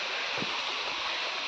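A small monsoon-fed village waterfall gives off a steady, close rushing hiss that stays even throughout, with faint low thumps underneath.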